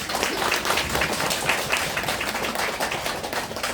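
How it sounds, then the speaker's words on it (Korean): An audience at a Korean traditional music book concert applauds a guest Intangible Cultural Heritage gaga singer, dense steady clapping filling the room for several seconds without a break. "박수 한번 주시죠."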